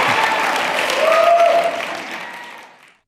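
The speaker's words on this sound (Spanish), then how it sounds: "Apláudame cuando quieran." An audience bursts into sustained applause, dense many-handed clapping that holds steady and then fades out over about three seconds.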